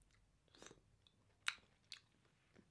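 Someone chewing green pitted olives seasoned with lemon and rosemary, a few soft, close, wet bites and crunches spaced unevenly over quiet background.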